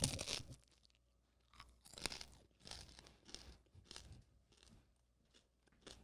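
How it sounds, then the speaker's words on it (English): Crunchy bites into a Sally's Apizza New Haven-style pizza crust, several crisp crackling crunches in an irregular rhythm, close up and loud with no talking. "Now, you're going to hear the crunch of the Sally."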